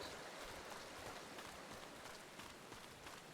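Rain falls steadily in Final Fantasy XIV, a faint, even hiss of drops with soft running footsteps splashing beneath it.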